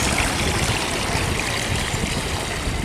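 Continuous broadband rush of water flowing in a granite fountain holding slightly chlorinated water at Kennedy Space Center, a steady close splashing wash with no voices.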